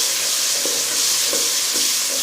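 Spiced masala for baingan bharta sizzles loudly in a pan while being stirred, a dense steady frying hiss with a few soft scraping strokes of the spoon spaced through it.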